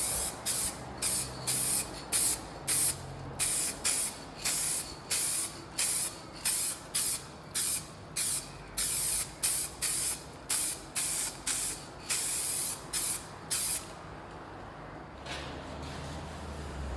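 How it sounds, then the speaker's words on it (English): Lacquer hisses from a spray can in a quick series of short, even bursts, applied as the final coat over a repaired patch of light patterned kitchen laminate, close and loud with no talking. "Then apply the final coat of lacquer."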